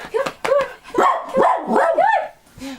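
A puppy barks and yips in quick repeated bursts close by, high-pitched and lively, with a brief whimpering tone near the end.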